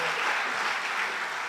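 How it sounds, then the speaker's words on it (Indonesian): Applause from a church congregation at an online Sunday worship service, a steady dense wash of many hands clapping throughout with no pauses. "Beri tepuk tangan lagi buat Tuhan kita."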